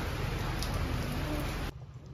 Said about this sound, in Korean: 밖에는 역시 우기라서 비가 오고 있습니다.